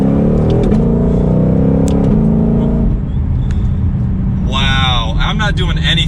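2021 Ford Mustang Shelby GT500 engine in sport mode: a loud, deep exhaust drone that rises in pitch through revs, fades briefly, then climbs sharply again, with someone talking over it.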